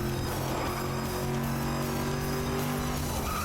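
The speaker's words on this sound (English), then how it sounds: "This car is so just disgustingly fast." A race car in FlatOut 2 roars at steady high revs, its engine drone held level and loud throughout with gear-pitch changes partway through and no voices over it.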